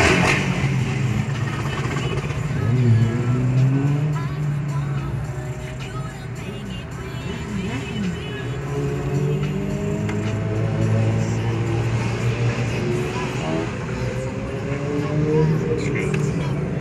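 Cars driving along a busy highway heard from inside a moving vehicle, a steady road and engine rumble with passing traffic swelling and fading, while someone talks over it.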